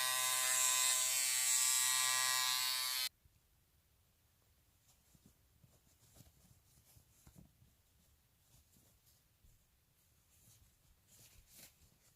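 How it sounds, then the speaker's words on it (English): A Philips series 3000 nose trimmer trimming hair buzzes loudly and steadily for about three seconds, then switches off, leaving only faint handling rustles. "The trimmer doesn't pull at all and is gently removing hair."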